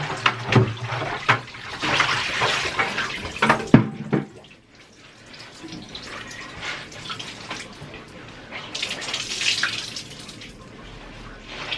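Water gushes and splashes as it is poured out of a bucket for several seconds, then quiets to faint trickling and dripping before another softer splashing stretch.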